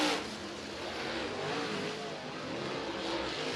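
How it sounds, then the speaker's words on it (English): Big-motor race cars accelerate past the tower at Cochran Motor Speedway just after the green flag, a loud, sustained engine roar that swells and holds for a few seconds with no talking. "These big motors, boy, they sound great going by the tower here"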